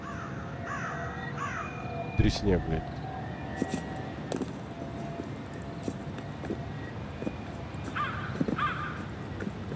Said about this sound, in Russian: Вороны эти шикаркают